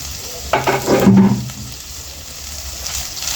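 Onions stirred into hot oil in a pan give a loud burst of sizzling and spoon scraping, then settle into a quieter steady fry.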